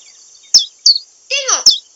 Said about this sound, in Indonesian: Tengok, burung pun menyanyi.